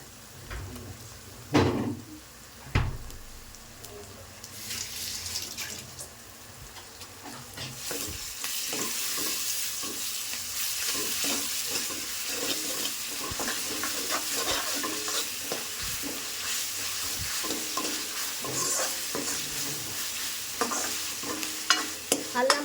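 Ginger cooking in a pan for chicken curry, starting with a few knocks and scrapes of a spoon, then swelling into a steady, close sizzle of frying that runs on with occasional stirring clicks.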